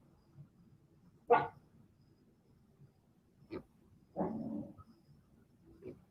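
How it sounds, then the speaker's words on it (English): A dog gives a few separate barks at a door indoors, loud sharp bursts spaced apart with quiet between them. "now my dog is barking at the door"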